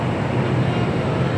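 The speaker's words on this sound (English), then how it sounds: "China Eastern, the 777-300ER, currently on taxiway Bravo." A China Eastern Boeing 777-300ER taxiing at LAX produces a brief, loud, steady engine rumble, with no voices over it.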